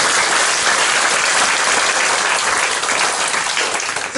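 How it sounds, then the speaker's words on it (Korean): A church congregation in Daegu gives a loud, dense wall of applause after a missionary's sermon, countless hands clapping together in a sustained, close, roaring wash. "박수로 드리겠습니다"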